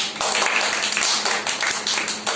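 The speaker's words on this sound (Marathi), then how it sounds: "टाळ्या" A group claps along during a singing class, with quick, steady hand claps that come close together and blend into a busy patter.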